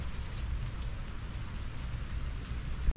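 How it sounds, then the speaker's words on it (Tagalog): Steady rain falling on a rainy morning during a tropical storm, a soft even hiss of drops throughout, ending in a brief loud knock close by. "Maulan ang ating morning."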